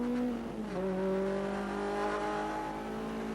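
A saloon race car engine heard from inside the car during a championship race, revving loudly with a clear pitch change as it shifts, then holding a steady strained tone.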